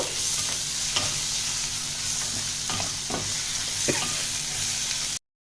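Onion, garlic and ginger sizzle steadily in hot oil in a pan while a spoon stirs them, with a few sharp scraping clicks against the pan over a constant frying hiss; no talking.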